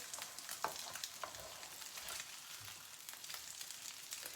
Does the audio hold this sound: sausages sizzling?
yes